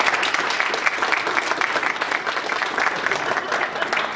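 Steady, dense audience applause greeting a guest speaker, a local member of parliament, at a church gathering. It holds loud and even throughout, with a faint voice beneath it.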